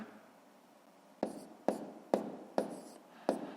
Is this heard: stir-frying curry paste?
no